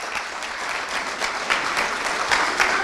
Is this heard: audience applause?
yes